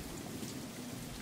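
Steady, close rain pours down in a dense, even hiss of drops striking the ground and surfaces, with no voices heard throughout.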